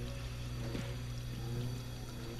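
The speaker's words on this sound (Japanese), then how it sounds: "うわ、なんか水の音聞こえる。" A kitchen tap left running in the horror game The Park, a steady rushing stream of water pouring continuously over a low droning hum, even and unbroken throughout.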